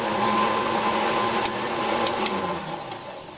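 An electric mixer whirs steadily through carrot cake batter in a kitchen, a continuous high motor whine with a few faint clicks of the beaters against the bowl.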